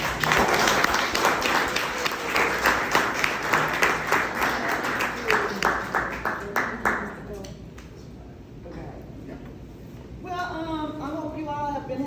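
Audience applauding as a speaker is welcomed at a business mindset event: dense, steady clapping from a crowd for about seven seconds, thinning out, then a voice begins talking.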